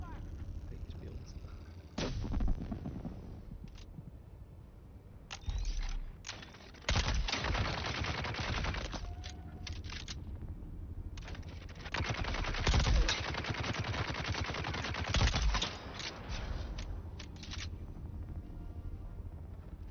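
Gun in Dune Awakening firing loud repeated bursts, dense stretches of rapid shots broken by short pauses, with busy battle noise between volleys.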